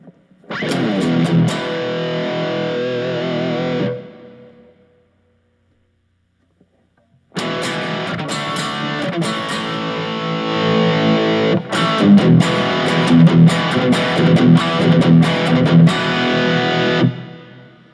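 Distorted electric guitar through a PV XXX amplifier profile, a short burst of chords, a few seconds of silence, then a longer stretch of crunchy riffing.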